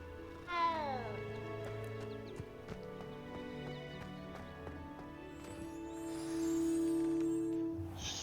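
A cat in the video game Hogwarts Legacy lets out a drawn-out meow near the start, with soft game ambience and faint footsteps behind it.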